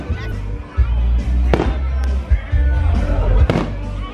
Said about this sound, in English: I think it stopped raining as soon as the fireworks started.